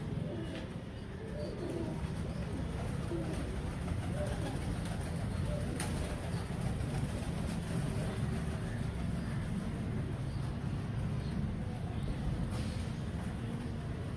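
Royal Teddy pigeons coo softly and continuously in their loft, a low steady murmur of many birds with occasional faint flutters and a distant background hum.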